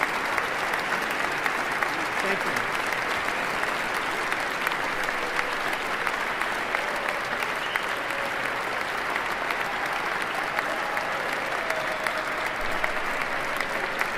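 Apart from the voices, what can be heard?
crowd applauding at presidential inauguration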